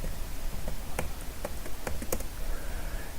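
Typing a command and a password on a computer keyboard, a handful of separate key taps spaced irregularly over a steady hum, close and moderately soft.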